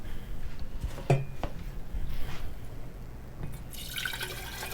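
Water trickles and drips into a houseplant's pot in a few short, close pours, with a brighter splashing stream picking up near the end.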